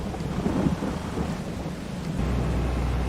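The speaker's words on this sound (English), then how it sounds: "And it's raining." Rain and thunder in the Farming Simulator 22 video game make a steady downpour under a deep rolling rumble of thunder that swells early and then settles into a constant heavy roar, with no voices.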